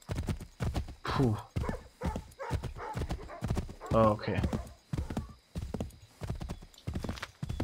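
Rhythmic horse hooves clip-clop through a galloping ride in the video game Assassin's Creed III, with occasional whinnies, while someone speaks over the steady hoofbeats.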